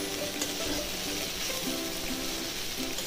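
Jackfruit curry with tamarind and mustard paste frying dry in a pan, a steady close sizzle with soft crackle and no voices.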